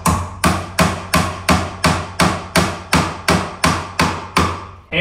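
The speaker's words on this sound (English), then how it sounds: "hammering in the nails" A hammer drives nails into an electrical outlet box, about a dozen sharp, evenly spaced blows in a steady rhythm, loud and close.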